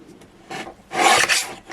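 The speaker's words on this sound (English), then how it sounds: "bring this trimmer in. trim, so I'm just going to go straight along the top" A paper trimmer blade slides along a sheet of craft card, giving a short soft rasp then a louder close scraping swish lasting under a second.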